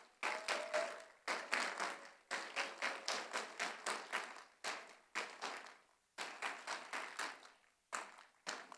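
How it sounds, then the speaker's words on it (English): An audience at the closing ceremony of Ponyville Cider Fest in Milwaukee claps in a series of rhythmic, sharp bursts separated by short pauses, sounding close and lively. "a big round of applause for everybody that came to Milwaukee for Ponyville Cider Fest"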